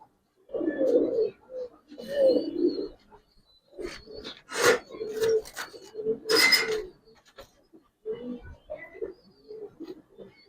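Pigeons in a cage, including a female, coo in soft, throaty phrases, a few close bursts with brief pauses, mixed with rustling and a couple of sharper bird noises, quiet and nearby.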